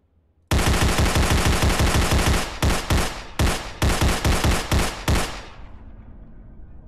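Rapid automatic gunfire in a SpongeBob video game, loud, close bursts of fast shots, several separate volleys over about five seconds after a silent start, then dying away.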